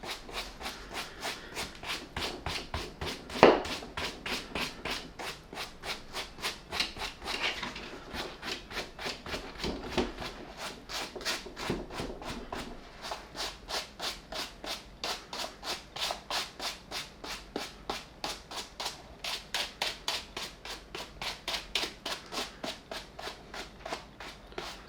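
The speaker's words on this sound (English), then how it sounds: "use this soft bristle brush, and it's just pretty much just to clean off all this eraser debris" A soft bristle brush scrubs eraser debris off a Nike ND 2 sneaker in a steady run of quick, even rubbing strokes, close up and continuous for about twenty-five seconds.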